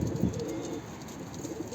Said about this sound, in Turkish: Çok güzel bir kuş arkadaşlar.